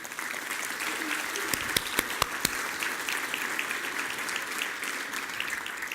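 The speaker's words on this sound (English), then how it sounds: "Can we give a big round of applause for Quincy?" An audience gives a round of applause for a speaker named Quincy at an expo announcement, with steady, moderately distant clapping filling the whole stretch and a few sharper claps standing out.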